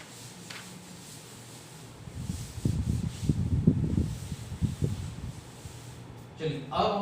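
Chalk or marker writing being rubbed off a classroom board during a maths lesson, a soft repeated scrubbing that swells for several seconds over quiet room noise, with a brief clatter at the end.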